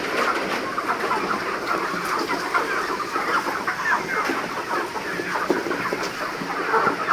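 Broiler chickens on a farm on a rainy morning, a dense flock clucking and chattering continuously at close range, forming a loud, busy wash of overlapping calls.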